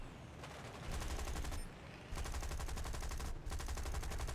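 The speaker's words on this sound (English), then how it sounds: "My rear gunner is shooting. You can hear that little rat-a-tat-tat." Rear gunner's machine gun on a British Beaufighter in War Thunder firing in loud, rapid bursts, three sustained stretches of rattling fire separated by brief pauses, with no talking.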